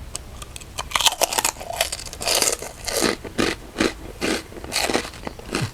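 Crispy pork rind and som tam papaya salad being bitten and chewed up close, loud sharp crunches coming in quick repeated bursts with a brittle crackle, no talking.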